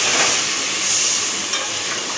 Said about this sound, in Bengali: পেঁয়াজের পেস্ট এটা দিয়ে কষাচ্ছি